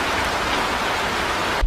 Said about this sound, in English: we had no idea it was gonna rain like this and all the roads are flooding